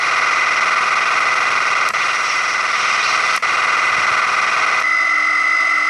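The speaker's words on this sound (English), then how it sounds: "It goes back to spinning, so firing, spinning, and then wind down is here." Heavy's minigun in Team Fortress 2 roars in a dense, steady mechanical buzz, continuous and loud for the whole stretch, with a few sharp clicks and a tonal shift near the end as it spins and winds down.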